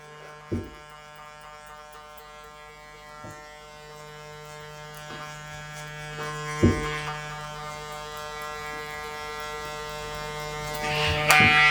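Electric hair clippers buzz steadily throughout a taper haircut, a close, continuous hum with occasional clicks and bumps as the blade works through the hair.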